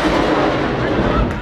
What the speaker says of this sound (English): That's an outgoing rocket.